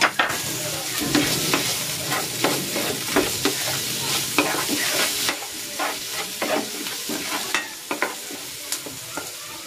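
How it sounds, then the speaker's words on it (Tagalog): Tomatoes sauté in a pan for chicken pasta in red pesto sauce, a loud close sizzle punctuated by repeated rhythmic spatula scrapes and clatters throughout. "Igigisa ko na rin tong kamatis."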